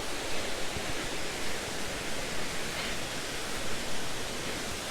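Lilydale Falls in Tasmania roars as a steady broadband rush of falling water, heard from the forest track just above the falls, continuous and fairly loud with no voices.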